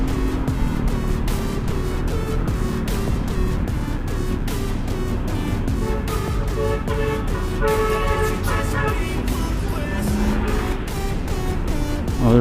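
Dense street traffic on España in Manila heard from inside a taxi: a steady, loud wash of engines and road rumble with scattered car horn toots, continuous throughout and without talk.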